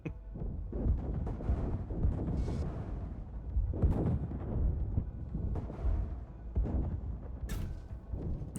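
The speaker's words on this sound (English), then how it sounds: "My guys are going nuts with these missiles." Repeated missile explosions and heavy blasts in the tank combat game GHPC, a dense, rumbling barrage with several sharp bursts and booms rolling one after another at steady loudness.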